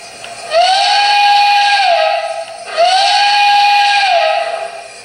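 Two long steam-style whistle blasts from an MTH Union Pacific #119 model train, each held for about two seconds with a rising start and falling end, loud and close with no talking.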